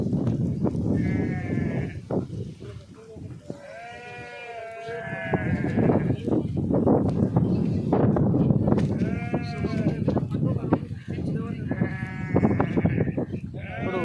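Several sheep bleat repeatedly at close range during a natural-disaster rescue, their wavering cries overlapping with someone talking and a busy outdoor background.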